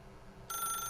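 A telephone in the video game The Stanley Parable starts ringing abruptly halfway through, a bright electronic tone that cuts in loud and sustained after a quiet stretch.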